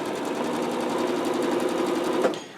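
A Janome 15000 sewing machine runs a straight back stitch with a fast, steady, close mechanical whir, then slows and stops near the end.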